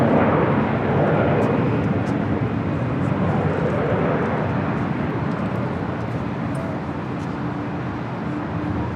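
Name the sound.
airplane taking off from runway 24 left at LAX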